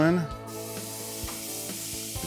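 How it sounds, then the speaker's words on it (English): Meat sears on a premium backyard gas grill over two burners at maximum heat, a close continuous sizzle after a brief loud burst at the start, with a few soft taps of placement. "And then I'm gonna do a reverse sear over these 2 burners that are at maximum capacity."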